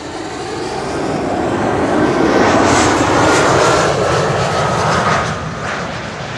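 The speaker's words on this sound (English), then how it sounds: "This is an Embraer 190 long range for a flight that lasted an hour." An Embraer 190 long-range jet arriving at Schiphol on runway Kaagbaan 06 gives a loud, steady engine roar that swells toward the middle and eases slightly at the end.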